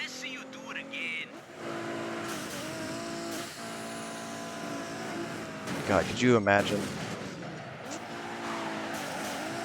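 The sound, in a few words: race cars in video game Midnight Club 3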